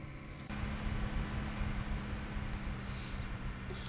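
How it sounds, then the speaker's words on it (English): Tractor engine heard from inside the cab in the farming video game Cattle and Crops: a faint, steady, looping hum and hiss that thickens after half a second and holds constant, no talk. "There's definitely a repeat engine sound in the cabs."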